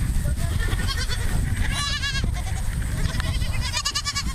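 A myotonic fainting goat bleats loudly and close by, letting out several wavering, quavering cries in quick succession over farmyard background noise.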